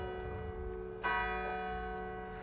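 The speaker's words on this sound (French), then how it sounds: "on se fait sonner les cloches." Church bells ring at the cemetery in Verdelais, France. A clear, resonant strike sounds near the middle, and its long humming tone lingers and slowly fades against quiet surroundings.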